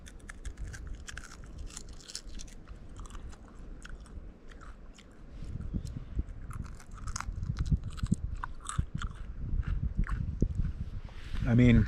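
Someone chewing cooked trout from the tail at a California car-camping spot, with close crunchy bites and wet mastication sounds spread across the clip, louder in the second half.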